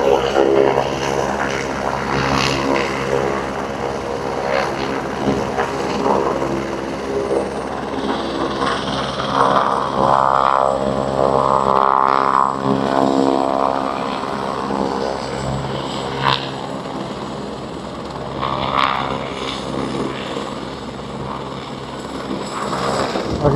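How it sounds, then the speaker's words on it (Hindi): A helicopter sits on the Kedarnath helipad with its engine and rotor whining and thumping steadily nearby, loud and continuous throughout, while people talk faintly in the background. "हेलीकॉप्टर आपको दिखा रहा हूँ"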